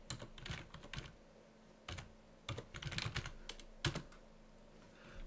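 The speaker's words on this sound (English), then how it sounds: "just type in the address of the server" Close, clear clatter of a computer keyboard as a server address is typed, irregular bursts of crisp keystrokes with short pauses and no talking.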